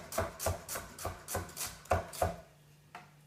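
A kitchen knife chops food on a cutting board in steady, evenly spaced strokes, about eight close, crisp knocks with a brief pause, and no talk.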